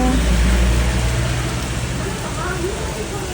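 Heavy rain pours down outside a village house, a dense, steady broadband hiss with a low rumble, loud and close throughout with no pauses.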